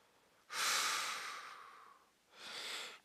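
Calm, deep breathing during a neck stretch in a short workout: one long, slow breath that fades out, a brief pause, then a second breath. It is soft and close, with no speech.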